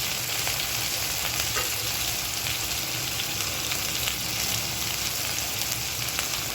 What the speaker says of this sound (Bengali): সব কিছু একসাথে দিয়ে সুন্দর করে নেড়ে চেড়ে ভেজে নিচ্ছি।